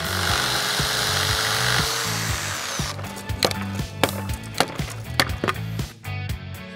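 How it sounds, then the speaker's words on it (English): Pallet wood being sawn off the end blocks while building a raised garden bed, a steady stroking saw rasp at first, then a run of sharp, uneven cutting strokes and cracks, close and loud. "you're gonna cut the wood from the blocks on each end"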